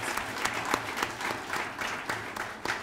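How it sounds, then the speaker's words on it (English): A school audience applauds in a steady wash of many hands clapping, moderately distant and fairly soft, with a few sharper claps standing out along the way. "All of you deserve a round of applause."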